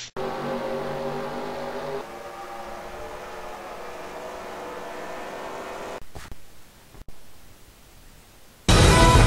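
Race cars in a video game race at Fiji Speedway give a steady droning engine whine that shifts partway through, then thins into noisy rumble before a sudden loud burst at the end.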